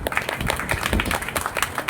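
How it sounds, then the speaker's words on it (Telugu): A crowd gives brief, brisk applause, with scattered hands clapping quickly for a moment. "యథార్థంగా వాళ్ళకి మనం గట్టిగా చప్పట్లు కొట్టాలి"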